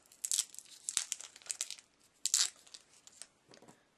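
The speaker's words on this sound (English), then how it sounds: "the wrapper, and the clay comes out of the package this soft" A plastic wrapper is peeled off a package of craft clay, soft crinkling and tearing close by in short irregular bursts, quiet and alone without talk.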